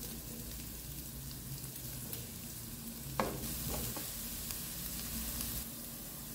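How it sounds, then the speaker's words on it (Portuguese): Onion fries in olive oil in a frying pan, a steady close sizzle with spatula stirring scrapes and a sharp clack partway through, no voices. "vou colocar azeite na nossa frigideira, fritar a cebola e o alho"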